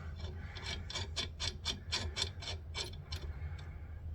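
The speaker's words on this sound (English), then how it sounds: "Get the nut on there." A metal nut is spun by hand onto a wheel axle stud of a 1999 Chevy Suburban, giving a close, rapid run of about a dozen scraping, ratcheting clicks over steady low background noise.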